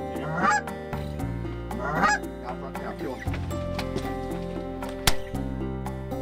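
Several geese honk loudly in repeated bursts over a steady background hum, around a spread of hunting decoys.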